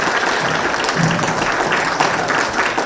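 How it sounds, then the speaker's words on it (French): Audience at a group cosplay contest at a Japan convention applauding, dense loud clapping from a crowd that holds steady for a few seconds. "On va applaudir."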